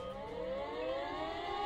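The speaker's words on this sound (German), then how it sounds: "Weltalarm, jetzt gehen wir die Sirenen an." Civil defense sirens wail in Emergency 4 with the Wegberg mod, a steady rising tone with layered harmonics that sounds distant but fills the scene, with no voices.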